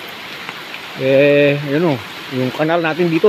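Heavy typhoon rain hisses steadily on surfaces, with someone talking over it near the microphone.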